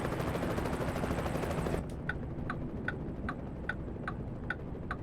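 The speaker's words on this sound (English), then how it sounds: "Helicopter tour flying over there." A tour helicopter in the video game American Truck Simulator gives a broad rotor wash that cuts off abruptly, followed by a steady series of evenly spaced ticking rotor thumps.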